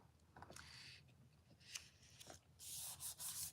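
A handheld paper trimmer slices a photo for a scrapbook page with quiet scraping, sliding strokes, a few soft rasps building to a louder final swipe at close range.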